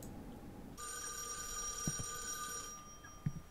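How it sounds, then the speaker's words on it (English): A telephone bell in a horror video game rings steadily for a couple of seconds, bright and fairly close, then stops; a couple of soft knocks follow. "Okay, that does sound like a phone."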